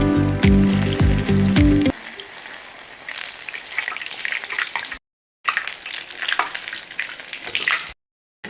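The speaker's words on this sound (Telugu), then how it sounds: "మనం బ్రెడ్ని మంచి గోల్డ్ కలర్ వచ్చే వరకు ఫ్రై చేసుకున్నాము" Bread slices frying in hot oil until golden: a tonal hum opens, then a bright bubbling sizzle comes and goes with two short silent gaps.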